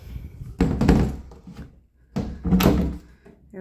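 Double closet doors in a kids' bedroom of a house open and shut, giving two close, solid thunks with a rattle between them and no talk.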